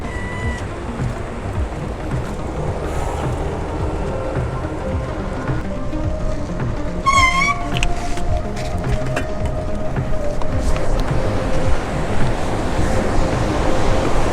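Ocean waves at Kapil Beach in Varkala, where backwaters meet the sea, a steady broad roar of surf with wind, continuous and fairly loud, with faint distant sounds mixed in.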